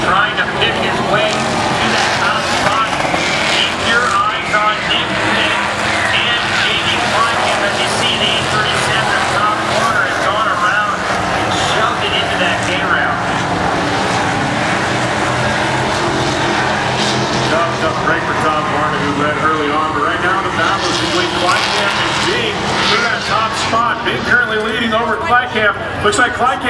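Pickup trucks, one of them a Dodge, race around a track, a constant loud roar of engines throughout, with an announcer talking over it.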